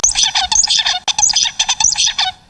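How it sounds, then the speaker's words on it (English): A young songbird practicing its song, a close, loud run of rapid high chirps and warbling phrases in short bursts, with a brief pause partway through. "the bird practices over and over again"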